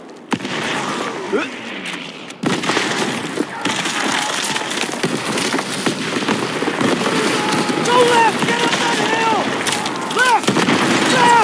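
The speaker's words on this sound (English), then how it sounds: "Artillery!" Booms and blasts of artillery fire in a World War II battle in Call of Duty WW2 roll on continuously for about ten seconds, loud and close, with shouted voices over the bombardment.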